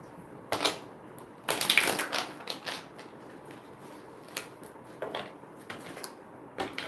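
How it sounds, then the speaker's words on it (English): Tarot cards being shuffled by hand, a series of soft papery riffles and flicks in irregular bursts, quiet and close with short pauses between. "Let me finish shuffling these cards."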